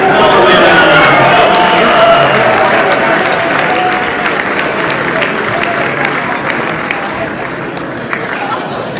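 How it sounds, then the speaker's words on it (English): Audience at an awards gala applauding and cheering, a thick continuous roar of many hands clapping with shouts, loud at first and slowly easing over about nine seconds. "Come on, give her a round of applause."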